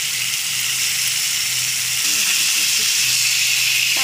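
Chicken liver added to hot oil and spices in a pan for kolija bhuna gives a loud, continuous close-up sizzle and hiss that swells slightly partway through, with faint clinks beneath.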